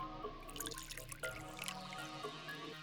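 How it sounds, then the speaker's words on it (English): Filtered liquid dripping from a funnel into a beaker in the video game Zero Escape: Virtue's Last Reward, soft scattered drips and trickling over a steady low background. "Nice water effect sound. There's a funnel above the beaker. Filtered liquid comes out of it, eventually."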